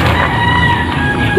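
Native chickens clucking and murmuring close by in a steady, busy barnyard background, with no talking.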